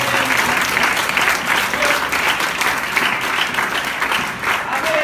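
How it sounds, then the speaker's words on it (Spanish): Loud, sustained clapping from a church congregation in praise during a sermon, a thick, continuous roar of many hands, with scattered voices faintly mixed in beneath it. "Un aplauso fuerte para el Señor Jesús"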